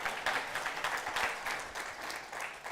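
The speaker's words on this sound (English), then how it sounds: "Give him a round of applause." An audience applauds at the official launch event of an education project, a dense, continuous round of clapping from many hands, fairly close and steady throughout.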